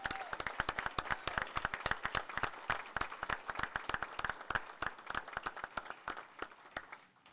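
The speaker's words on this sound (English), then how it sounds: "if I could, just one more round of applause for Miss Solana Mack." A modest crowd at a board meeting applauds, with distinct individual claps in a lively but fairly thin pattern, moderately quiet and with no talking over it.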